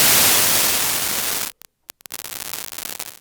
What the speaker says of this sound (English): So grain goes from white noise to very grainy.